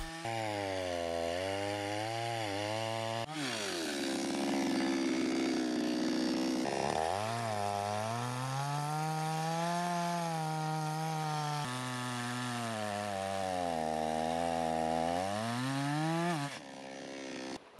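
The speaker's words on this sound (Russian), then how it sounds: "С помощью бензопилы отпиливаем в двух частях." Loud chainsaw engine running continuously nearby, pitch dipping and rising as the chain bites into a fallen pine log, revving between cuts.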